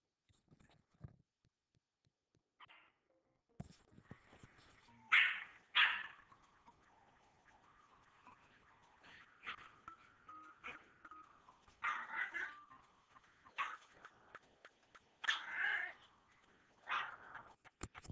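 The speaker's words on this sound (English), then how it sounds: "So this dog incessantly barked 30 times in 5 minutes." A dog barks repeatedly at its own reflection, a run of sharp, fairly close barks and yelps scattered in uneven bursts over about fifteen seconds, with quieter whimpers between and no talk.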